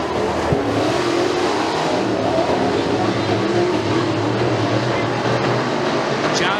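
Rush Pro Mod race cars roar steadily down the front straightaway at McKean County Raceway, a continuous dense engine drone from the field at a dirt-track heat race, loud and unbroken for the whole stretch.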